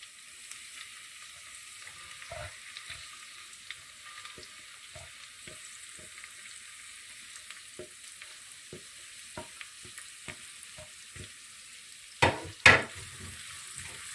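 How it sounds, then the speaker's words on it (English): Onions, ginger and garlic frying in oil for red lentil dal as they are stirred, with a soft steady sizzle, scattered spoon scrapes and a couple of louder clanks near the end, no talk. "we want to coat it in the oil, get it nice and stirred up"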